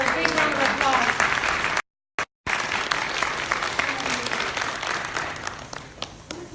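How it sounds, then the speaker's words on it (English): An audience at an EV demo in Vancouver breaks into strong, continuous applause for Diamond Director Becky Hurley on stage, close and dense clapping with a brief dropout partway through. "give her a big round of applause"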